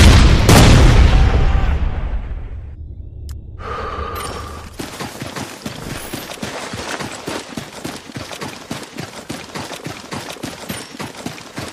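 A frag grenade blows up in Ghost Recon Future Soldier, a loud booming blast that fades over a couple of seconds, followed by a steady rattle of rapid gunfire.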